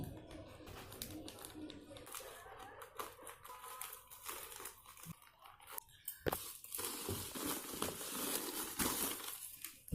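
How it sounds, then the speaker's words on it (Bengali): Packaging on a newly delivered phone being cut open at home, with crinkly plastic rustling, scraping and small clicks close by, mixed with background noise and occasional muffled voice. "এবার প্যাকেটটা কেটে দিচ্ছি"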